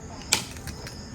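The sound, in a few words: coconut being cracked open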